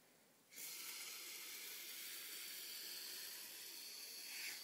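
A carpet cleaner foaming out onto a surface gives a soft, steady hiss that starts suddenly after a brief quiet moment and holds evenly and close by, with no talking.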